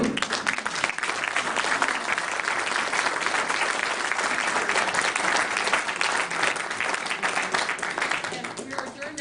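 A crowd applauds continuously, dense clapping filling the whole stretch at a steady, moderately loud level.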